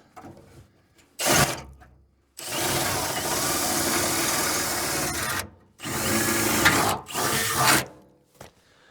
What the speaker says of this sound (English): I'm gonna see if I can't drill it out